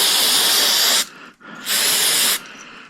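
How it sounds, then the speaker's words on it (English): An aerosol can of contact cleaner, used to strip oil and grease in a workshop, sprays in two loud, steady hissing bursts of about a second each, separated by a short pause, with no talk. "the spray is just some contact cleaner, but it gets all the oil and grease off of everything"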